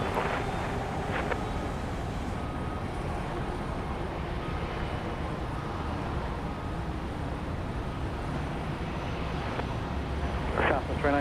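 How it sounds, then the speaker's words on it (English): A Southwest airliner that has just landed at Dallas Love Field airport, a broad, steady jet roar heard from across the field, partly buffeted by wind on the microphone, with people talking over it. "Flight 2052 from Tulsa just landed. You can hear it over on the west side."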